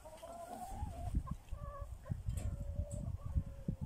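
Laying hens, two small red ones among them, clucking and cackling in a farmyard at the end of the day, with a steady run of close, busy calls and occasional brighter squawks.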